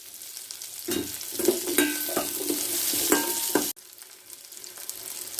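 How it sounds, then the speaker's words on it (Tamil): Garlic cloves sautéing in a pan over a medium flame, a close, steady sizzle broken by repeated spatula scrapes and stirs before the sound drops away near the end; no talking. "அடுப்பை மீடியம் ஃப்ளேம்லேயே வச்சு லைட்டாக வதக்கிக்குங்க. 2 பல்லு பூண்டு சேர்த்துக்கலாம்."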